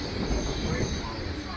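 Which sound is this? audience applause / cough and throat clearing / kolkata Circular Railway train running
kolkata Circular Railway train running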